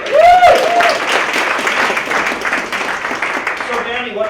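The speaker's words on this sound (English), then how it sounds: "A big round of applause for Danny." An audience at a puppet cabaret claps a steady round of applause, dense and moderately loud, opening under a brief voice and fading slightly toward the end as talking resumes.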